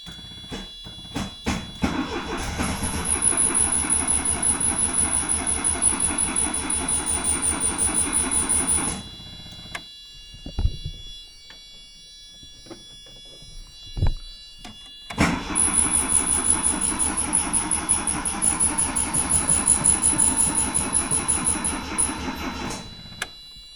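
A 1980 Triumph TR7 engine cranks in rhythmic starter bursts, catches briefly with a high whine, then quits. After a quiet gap with a few clunks, it cranks and runs again for several seconds.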